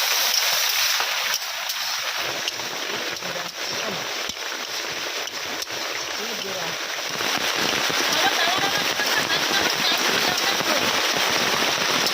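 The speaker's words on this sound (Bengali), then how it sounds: "কয়েক সেকেন্ড বৃষ্টিটা থেমে যাচ্ছে, তারপর আবার জোরে আসছে।" Heavy monsoon rain pours down in a dense, continuous hiss, loud and steady throughout, briefly easing and then hammering again harder.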